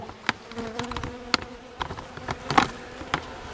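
Honeybees buzz inside a warm winter hive, a close, dense hum with scattered louder wing bursts and shifting tones.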